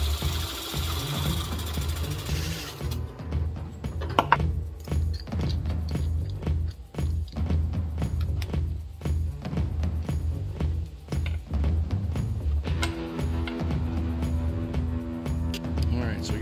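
Saw blade cutting discs from circuit board, giving a steady rough buzzing grind with rapid rhythmic strokes that shifts in pitch partway through.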